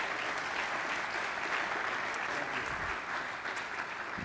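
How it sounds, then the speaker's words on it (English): A church congregation applauds after a prayer during a service: steady, dense clapping that fills the room evenly for several seconds without pause. "Would you give them a round of applause?"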